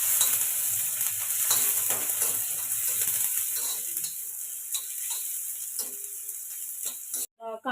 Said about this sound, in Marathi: तेल तापले आपलं, आता आपण कांदा टाकून घेऊया